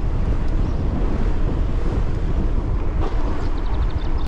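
Steady wind buffeting a microphone while mountain biking through open fields, a dense continuous rumble and roar with no speech, loud and unbroken throughout.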